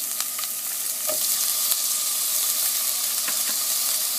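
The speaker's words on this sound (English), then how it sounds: "add our crushed garlic to our onions and red chili here" Crushed garlic fries with onions and red chili in a curry pan, a steady sizzle broken by occasional spoon taps and scrapes, close and fairly loud with no talking.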